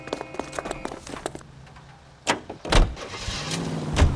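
A car in the video game L.A. Noire: a run of clicks, then a door thuds shut and the engine cranks and catches, rising into a close idle rumble.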